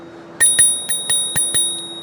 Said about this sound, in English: That's a cute little bell.